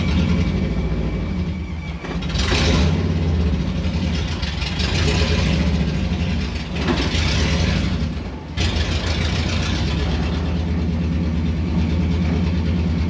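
A VW Bus fitted with a Subaru engine pulls away in first gear, its deep engine rumble rising and falling loudly inside the cabin with brief dips between revs.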